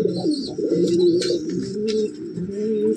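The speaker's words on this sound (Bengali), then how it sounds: "পুরো একদম অরিজিনাল কালো সবুজ পায়রা, পুরনো জেনারেশনের কালো সবুজ পায়রা দেখুন" A black-green pigeon of an old-generation line coos repeatedly, close by and fairly loud, with soft chirps and fidgeting rustles in between.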